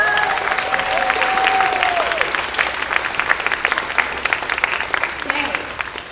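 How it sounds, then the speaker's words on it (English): A school chorus concert audience claps in a steady round of applause that thins toward the end, with a voice briefly audible at the start. "let's give her a nice round of applause"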